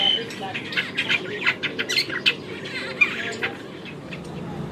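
Birds squawk and chirp excitedly in a tree at an outdoor meal in South Africa, a dense run of sharp overlapping calls close by with voices murmuring underneath.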